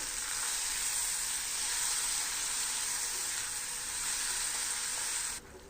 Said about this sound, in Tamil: 1 தக்காளி பழம், கொஞ்சமாக மஞ்சள் தூள், உப்பு சேர்த்து வதக்கி விட்டுக்கலாம்.